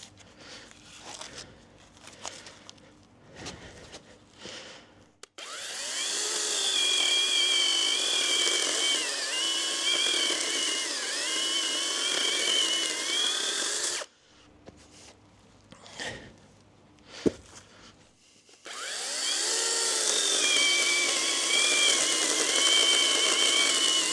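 Procraft PKA42Li cordless saw cutting oak: a loud, sustained motor whine with wavering pitch runs for several seconds, pauses amid knocks and handling sounds, then resumes for another long cut.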